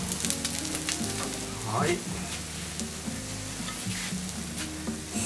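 Kansai-style okonomiyaki frying in an uncovered frying pan as the moisture cooks off, a steady crackling sizzle that continues throughout, with a brief spoken word near the start.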